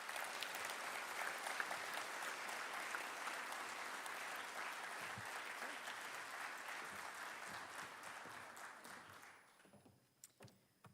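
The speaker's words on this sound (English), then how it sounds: "I know the audience wants to join me in giving you a warm round of applause." Audience applause at a statewide oil and gas conference, a long, dense, even round of clapping that holds steady before thinning out and fading to a few scattered claps near the end.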